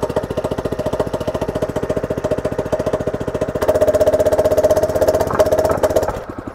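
A Weber CR2 plate compactor runs at half throttle, its engine hammering in a fast, steady vibrating pulse, close and loud, then rising in intensity before settling slightly near the end.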